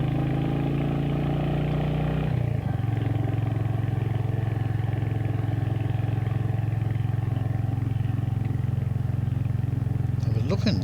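A long-stroke motorcycle engine pulls uphill with a close, continuous low throb that shifts pitch early on, as if changing gear, then holds a steady drone.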